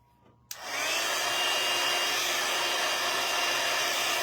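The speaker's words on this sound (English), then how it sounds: "I'm going to use my heat tool again" A heat tool for crafts switches on abruptly and blows hot air in a loud, steady whooshing roar that holds unbroken to the end, close to the microphone, with no talking.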